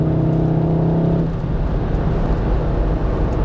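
A Volkswagen Golf 7R engine drones loudly under acceleration, its steady harmonic tone dropping abruptly as the DSG gearbox shifts instantly, then continuing as broad road and engine noise.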